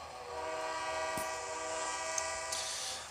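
A train in the Trainz Driver video game runs past in a steady, moderately faint rumble with a sustained tonal drone like a horn, and no one speaks.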